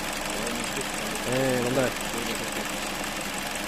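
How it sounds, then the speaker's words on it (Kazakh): A Hyundai i40 car engine idles smoothly in a steady, even drone with no knocking or stumbling, and a brief voice rises over it for a moment. "мотордун жүрүшү өзүңүздөр байкап атсаңыздар керек, мындай ровно эле жүрүп турат"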